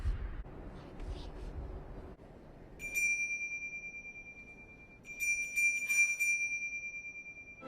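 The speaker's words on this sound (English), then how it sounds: "one of the bells from the reindeer flies off and lands right by him" In a Christmas movie, a bell from Santa's reindeer rings: two bright, clear chimes a couple of seconds apart, each ringing on and decaying over a quiet, faintly rumbling background.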